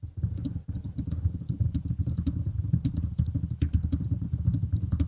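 Keys clatter on a computer keyboard in quick, irregular bursts of close, crisp clicks over a low background rumble, with the pace of typing holding fairly dense throughout.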